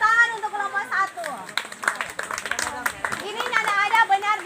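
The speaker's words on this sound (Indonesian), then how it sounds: "Tepuk tangan untuk kelompok 1." A small group of students claps at a school worship gathering, scattered uneven claps mixed with lively voices talking and calling out throughout.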